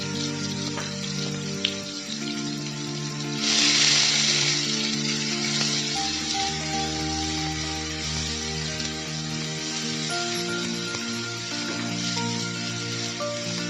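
Onion paste drops into hot refined oil with two cracked cardamom pods, a sharp sizzle swelling briefly and then settling into a softer frying hiss beneath steady background music.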